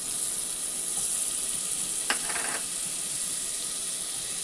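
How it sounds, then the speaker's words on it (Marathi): Butter sizzles in a pressure cooker pan for pav bhaji with a constant high hiss, broken by a brief clatter partway through, close and with no talk. "तर आपण हे बटर टाकूया पहिला"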